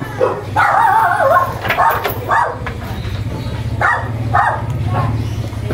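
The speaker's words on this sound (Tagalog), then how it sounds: "Yung mga aso guys, oh." Several dogs bark and yip in short bursts around a house, fairly close and loud, with gaps between volleys and a low background hum beneath.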